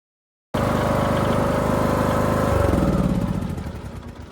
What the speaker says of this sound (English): I used the mower to mulch it all up really, really good.